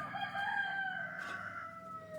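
A country rooster gives one sustained crow, loud and close, with faint clucking from other farm chickens underneath.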